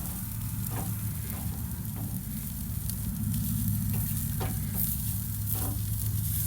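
Vegetables sizzle steadily on an Old Smokey grill as they are stirred around, a constant crackling hiss with a low rumble beneath and occasional scraping clicks from the stirring, no voices.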